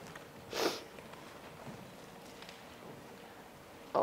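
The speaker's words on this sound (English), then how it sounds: "Sorry, I'm sniffing. I've come down with a cold." A person with a cold sniffs once, a short breathy intake heard close and alone in a quiet lecture hall, with a faint second breath at the very end.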